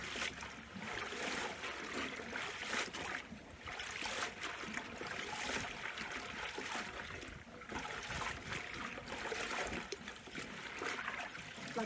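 Potato greens from a home garden are washed under running water, a continuous splashing and trickling with bursts of rustling leaves, fairly close and with no talking.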